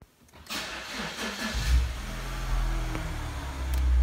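A 2012 Mini Cooper S Convertible engine cranks over and catches, then settles into a steady low idle with a slight rev near the end.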